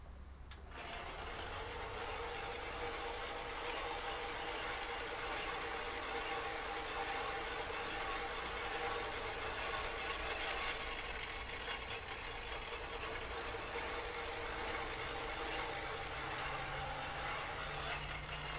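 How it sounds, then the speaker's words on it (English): A sugarcane crushing machine at a street juice stall in Brazil grinds cane stalks, a loud continuous mechanical whir with a rattling ratchet-like texture and engine hum, steady for the whole stretch. "They grind up the sugarcane stalk in there."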